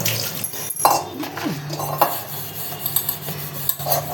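Dishes, pots and pans clatter in a home kitchen during a busy cleanup, with scattered clinks and knocks of metal and glass, a scrape and a faint steady hum underneath.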